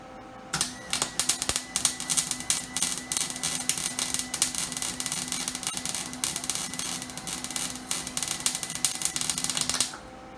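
Tack welding steel panels on a Ford Focus produces rapid, irregular crackling and sputtering bursts up close, continuing almost without pause for about ten seconds before cutting off abruptly.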